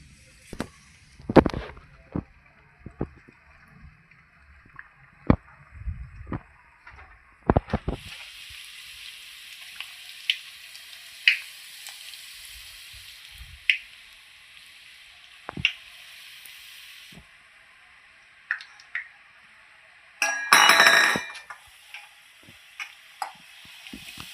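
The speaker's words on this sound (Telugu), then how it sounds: "గవ్వలు ఒకటి తర్వాత ఒకటి వేసుకొని డీప్ ఫ్రై చేసుకోవాలి." Gavvalu sweets deep frying in hot oil: an intermittent sizzle with sharp crackles and pops scattered throughout, and a louder burst of bubbling near the end.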